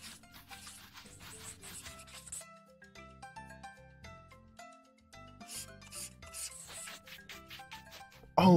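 Scrubbing rust off a cartoon tow truck, a steady rasping rub repeated in quick strokes over bright cartoon music with chimes, ending in a louder burst.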